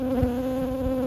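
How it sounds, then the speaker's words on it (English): A honeybee hovering right by someone's face during a hive inspection, producing a steady, loud, close buzzing drone with a strong even pitch throughout and no voices. "Get away, bee. Get. She's on my face."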